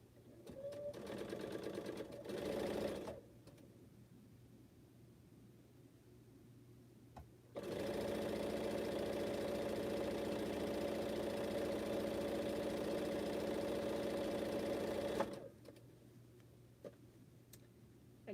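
A sewing machine sews a quilt strip in a short run, then after a quiet gap a longer steady run of about eight seconds. Faint handling noises fall between the runs.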